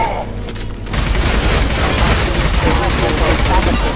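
Gunfire in the video game Mass Effect 2, a dense, loud burst of rapid shots and booms erupting after a brief quieter moment and continuing without pause.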